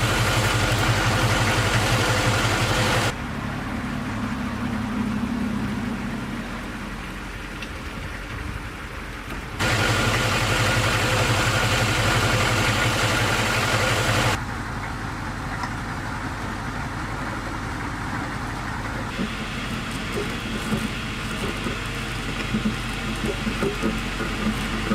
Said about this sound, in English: now we're going to use the winch and pull the Humvee in